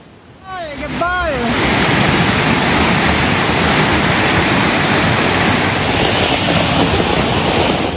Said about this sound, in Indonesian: Banjir luapan Sungai Bedadung melanda sejumlah wilayah di Kabupaten Jember, Jawa Timur.